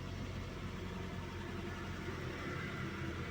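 A car engine idles after a fuse replacement, giving a steady, even low hum with no changes in pace, fairly quiet and alone.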